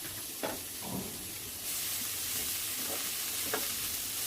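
Chopped coriander leaves are stirred into a yardlong bean mash in a hot pan. A constant sizzling hiss runs under light, intermittent scrapes of the spoon.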